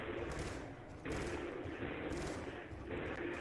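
Rapid gunfire in Call of Duty: Black Ops 2 Zombies, dense overlapping bursts of shots filling the whole stretch, loud and continuous.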